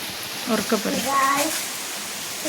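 Heavy rain falls by open paddy fields on a rainy evening as a steady, close hiss. A voice talks over it briefly near the start.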